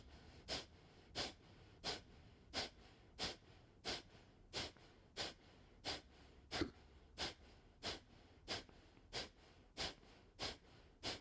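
Sharp, forceful exhales through the nose repeat in a steady, even rhythm, about sixteen pumps spaced under a second apart, close and distinct over a quiet room during a twisting breathing practice.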